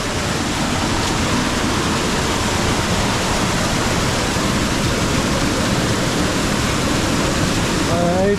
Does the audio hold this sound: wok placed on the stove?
no